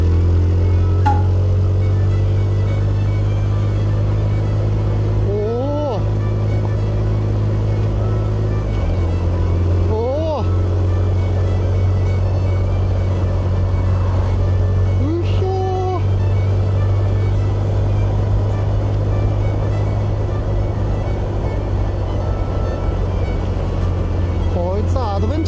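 A Suzuki GN125 motorcycle rides along a slushy, snow-covered Dublin mountain road, its steady close engine drone running throughout with a few brief rising revs and shifts.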